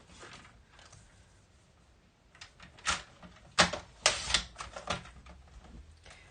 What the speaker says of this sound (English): Let me cut a quick piece, see if it will work.